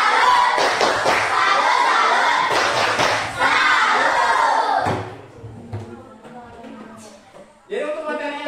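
A school class shouts and claps through the tepuk salut clapping chant, a loud burst of children's voices and rhythmic hand claps that drops away to quieter voices and returns briefly near the end.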